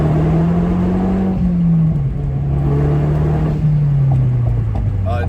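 A Mazdaspeed 3 engine with its exhaust cutout open drones loudly and close by, pitch rising and falling through revs and a downshift on an icy road, with a deep, steady exhaust tone throughout.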